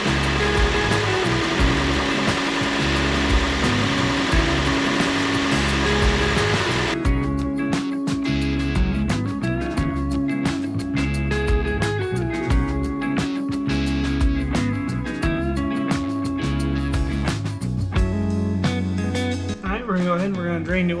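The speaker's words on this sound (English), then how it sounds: "Now we're going to go ahead and start the engine for about 10 minutes until I allow the flush oil to work." A 2026 Ford Maverick Hybrid engine idles during an oil flush at its first service, a steady mid-pitched hum with a harmonic drone that continues throughout, nearby and moderately loud.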